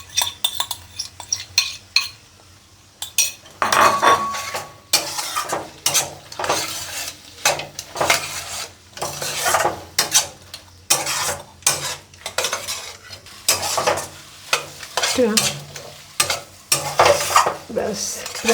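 Beaten duck eggs fry with greens in a pan, a loud sizzle driven by repeated rhythmic scraping and clanking strokes of a metal spatula against the pan, close up and continuous with no voices.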